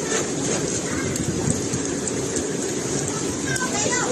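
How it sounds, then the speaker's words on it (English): Torrential rain from Tropical Storm Yagi in the Philippines, a loud, dense, continuous hiss and patter with low rumbling underneath. "Yagi triggered landslides and unleashed torrential rains that inundated vast areas of the northern Philippines."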